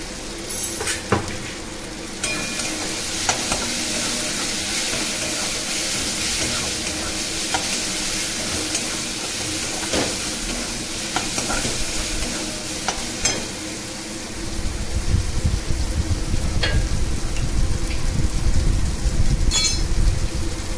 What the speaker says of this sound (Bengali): এটা কষাতে থাকবেন।